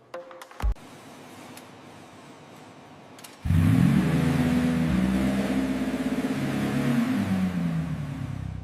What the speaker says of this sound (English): Experience the raw power of the engine.